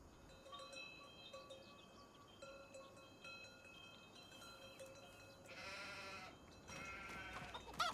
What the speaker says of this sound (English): Here we have more sheep and goats.